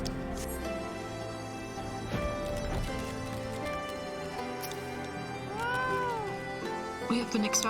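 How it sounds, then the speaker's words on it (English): A summoned cat in Final Fantasy XIV lets out a short meow, followed a few seconds later by a clearer second meow, all over game music and ambient noise. "I meant to summon my cat."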